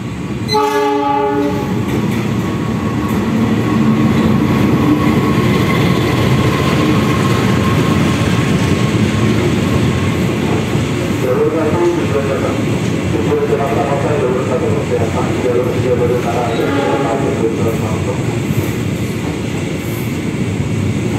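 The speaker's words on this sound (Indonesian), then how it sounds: "ternyata di belakang ada kereta lagi nih. Sepertinya Argo Cirebon" A train, apparently the Argo Cirebon, rolls through Manggarai station in Jakarta with a loud, continuous roar and rattling wheels, while a horn blares near the start and again later.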